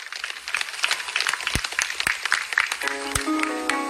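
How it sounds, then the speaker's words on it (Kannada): Audience applauding schoolchildren receiving the Karanta Bala Puraskar award at a district-level ceremony in Udupi, a busy spread of claps with sharp individual slaps, while a voice speaks over it near the end. "ಚಪ್ಪಾಳೆ ಕೊಡ್ತಾ ಇರಿ ಮಕ್ಕಳಿಗೆ."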